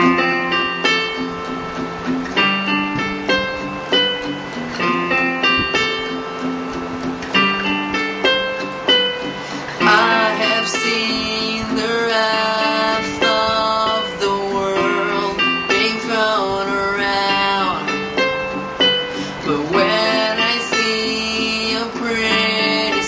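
An acoustic band plays a song, a full, steady mix of strummed and picked instruments with sustained melodic lines running continuously throughout, fairly loud and close with no talking.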